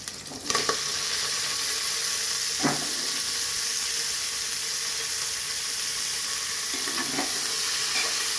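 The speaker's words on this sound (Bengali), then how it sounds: "ভাজা হয়ে গেছে এখন আমি সবজিগুলো ঢেলে দেব" Vegetables sizzling in hot oil for a pressure-cooker khichuri made with katarivog rice: a steady, loud frying hiss throughout, with a few sharp clatters of stirring near the start and end.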